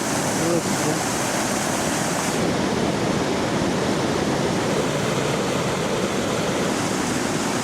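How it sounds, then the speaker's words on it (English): Waterfall at low water level in spring, a steady broadband roar that fills the whole stretch, loud and close, with a short voice briefly audible over it near the start. "Here we are down at the falls."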